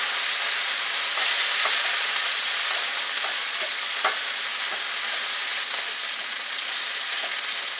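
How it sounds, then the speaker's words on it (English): Onions browning in oil in a pan give a steady, close, loud sizzle and crackle throughout, with occasional soft stirring clicks and no voices. "So we've got the onions browning here."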